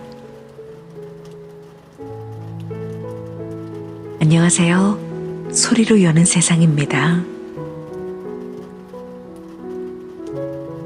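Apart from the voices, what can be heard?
rain falling steadily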